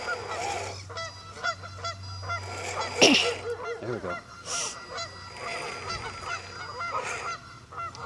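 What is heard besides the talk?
geese honking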